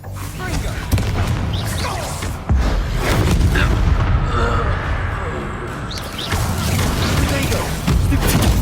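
A Confringo fire spell explodes in Hogwarts Legacy, with loud booming blasts and rumbling impacts in a mine battle, mixed with shouted voices and grunts.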